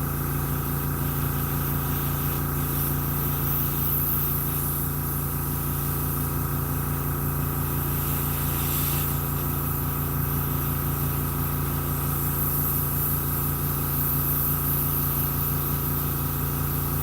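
An airbrush spraying figure paint inside a large garage gives a continuous, even hiss over a steady mechanical hum, most likely a compressor. It stays loud and unbroken throughout with no talking.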